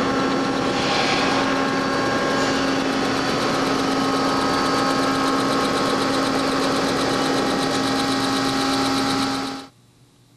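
A newly built electric vehicle motor assembly spins up on the bench, giving a steady loud whine with strong harmonic tones and a rapid mechanical flutter that runs unbroken for about nine seconds before cutting off abruptly, with no talk.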